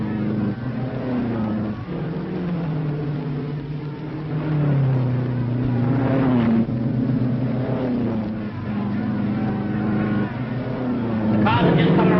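Race cars roar away at the start of a race before the Indianapolis event, engine note climbing and sweeping in pitch as they accelerate, with a voice talking over the din throughout.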